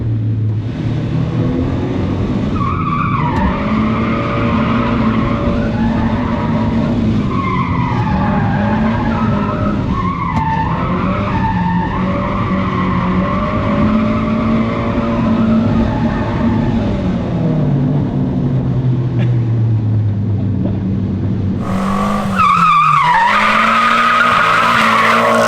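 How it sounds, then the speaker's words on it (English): A Nissan S15 Silvia drifts in first gear, loud continuous tire squeal and skidding over a revving engine, sustained throughout with a sharper surge of screeching near the end. "I'll try drifting in first."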